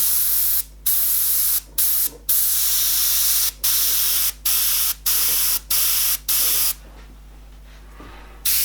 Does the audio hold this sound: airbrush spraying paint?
yes